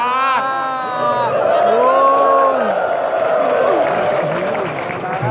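Audience applause and cheering at an Indonesian religious sermon, a dense continuous wash of clapping and voices filling the room, with a voice calling out over the crowd.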